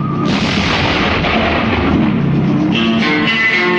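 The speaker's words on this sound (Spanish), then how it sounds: "Un cañón dispara contra la silueta de un jinete galopando de lado a lado." Cannon fire from the title sequence of the Western The Good, the Bad and the Ugly, a loud sustained booming blast with rumbling, roaring texture that fills the whole stretch without pause.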